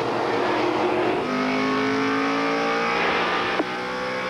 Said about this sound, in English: Here comes Hooper passing the slower car of